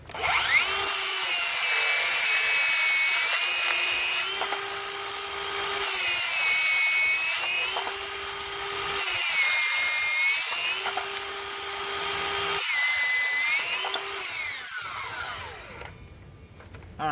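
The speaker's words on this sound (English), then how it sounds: "All right, first we do some cuts with the Ryobi." Steady back-to-back cuts through a standard 2x4 with a Ryobi brushless saw: a loud, close motor whine dips under load four or five times in a regular rhythm, then spins down at the end.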